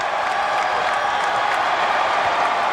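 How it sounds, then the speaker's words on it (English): Basketball crowd at Penn State against Pitt standing and cheering, a steady, loud roar of cheers and applause filling the arena throughout without a break. "the fans standing and cheering"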